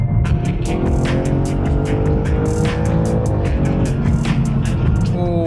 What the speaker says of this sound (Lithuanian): Šitas perjungimas ir garsas iš galo.